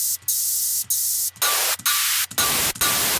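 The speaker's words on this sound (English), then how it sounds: "I'm trying to create a little bit of a ring with the white noise using these two oscillators here" Bursts of synthesized white noise from two oscillators, switched on and off in a steady rhythm, each hiss bright and harsh, with the tone shifting between bursts.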